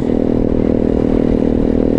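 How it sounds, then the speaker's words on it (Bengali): A 150cc motorcycle fitted with a loud aftermarket exhaust drones close and continuously, a rough, throbbing engine note at steady speed on a Bangladesh expressway. "150 সিসির একটা গাড়িতে এক্সস্ট লাগায় সাউন্ড করে মানুষের কানগুলো ফাটায়"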